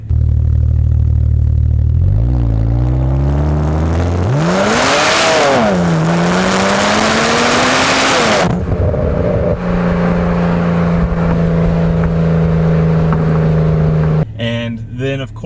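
BMW N54 car launching with anti-lag launch control, a loud engine held at high revs, then a surging rising roar with a sweep in pitch, followed by a steady drone and a short burst of crackling at the end.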